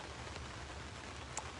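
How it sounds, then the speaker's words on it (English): Rain falls outdoors in a soft, continuous hiss, quiet and distant, with a single brighter drop standing out briefly near the end. "I'm listening to the rain"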